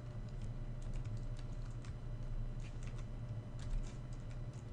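Steady typing on a computer keyboard as code is entered into a code editor, a continuous run of quick, light key clicks close by over a low background hum, with no talk.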